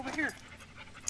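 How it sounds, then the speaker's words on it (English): A small dog pants briefly and close by while it trots among a pack of much larger dogs in Iceland, with a voice or whine mixed in over the short burst. "here she comes, trotting over, trying to get through the pack of dogs much larger than she is"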